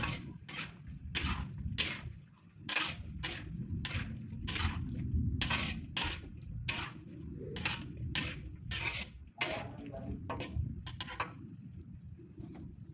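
Green mustard greens and cauliflower being stirred in a pan: a quiet sizzle runs beneath a string of sharp, rhythmic scrapes and clinks of a utensil against the pan, repeated roughly every half second.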